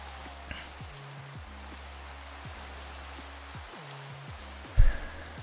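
Steady rain falls in the video game Minecraft, a soft even hiss running throughout, with repeated low synthetic tones and a brief louder click near the end.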